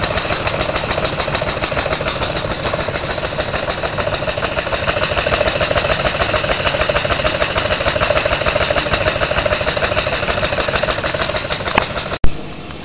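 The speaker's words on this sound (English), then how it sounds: "a twin belt system now on the Jowett engine" A Jowett engine with a twin belt drive runs steadily in a model generator room, making a loud, continuous rhythmic mechanical chatter that cuts off abruptly near the end.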